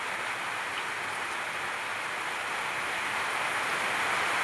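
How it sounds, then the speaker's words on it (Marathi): Heavy cloudburst rain pours down steadily in a rural area, a dense continuous hiss that stays loud and unbroken from start to finish, with no voices. "जोरदार पाऊस।"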